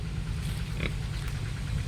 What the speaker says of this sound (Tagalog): Ay, may pang-apat pang baboy.